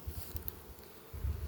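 Queen bees buzzing at an apiary where queens are raised for shipment, a low droning hum that swells in short bursts near the start and end, close and fairly quiet, with no voices.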